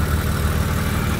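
A turbocharged 1997 Toyota Supra MK4 engine idling steadily with a low, throbbing rumble, close and continuous with no talking.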